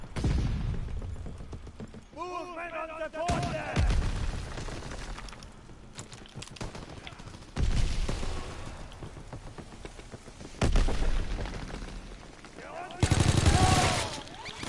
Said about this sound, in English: Bro, shotguns, seriously.